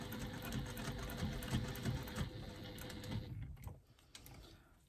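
A sewing machine back stitches a zipper seam on a fabric wristlet bag, a steady close rapid chatter of stitching that runs for about three seconds before stopping and leaving quieter handling noise.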